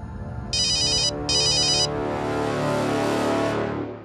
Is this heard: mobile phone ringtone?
yes